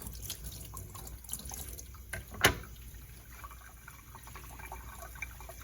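Tap water runs steadily over a watercolor palette in a sink, a continuous soft splashing with one brief louder splash midway, no talking.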